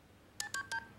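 Three quick telephone keypad dialing tones beep in succession before a phone call in the animated series Mission Hill, crisp and close against a quiet background.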